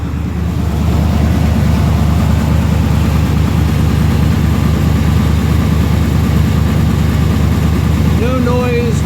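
A 1990 Chevrolet K1500 pickup with a 5.7L 350 V8 idles after an exhaust leak repair, giving a steady, loud low rumble throughout, with a brief higher whine near the end.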